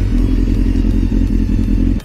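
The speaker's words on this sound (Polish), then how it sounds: "Przekręcam zapłon i słyszę ten warkot silnika." A 1000cc Yamaha motorcycle engine rumbles steadily just after ignition, a loud, close, deep idle with a regular pulsing throb. The rumble stays alone and unbroken throughout.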